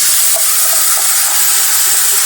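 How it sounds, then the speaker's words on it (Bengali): Onion tempered in hot oil (bagar) poured onto cooking beef curry hisses and sizzles loudly and steadily up close, a bright, dense spitting spray that cuts off at the end. "শুধু পেঁয়াজ তেল দিয়ে আমরা এখানে বাগার দিয়ে দিলাম"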